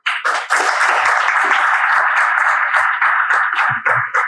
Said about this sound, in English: Please, one more time, a round of applause for him.